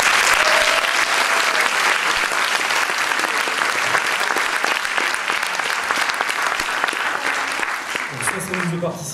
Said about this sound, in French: Alors, vous pouvez les applaudir déjà.